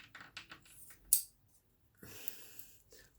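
Quiet rustling and scattered metallic clinks as someone rummages for scissors, like a drawer of tools, with one sharp clatter partway through.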